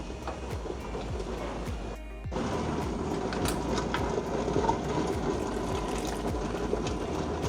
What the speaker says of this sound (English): Wow, this is getting close to a full boil